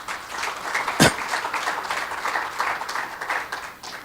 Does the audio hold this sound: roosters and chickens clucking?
no